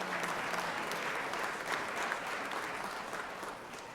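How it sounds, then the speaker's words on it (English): An audience in a legislative chamber applauds the Women in Radio guests with a broad, even wash of clapping that stays strong for several seconds and eases slightly near the end. "Let's give them a big round of applause"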